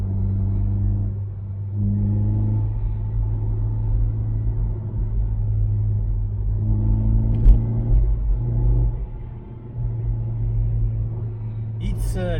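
Deep, loud rumbling exhaust drone from a Honda CR-Z fitted with a Spoon N1 exhaust and no sub silencer, idling and gently revving, steady and close, with a faint click near the end.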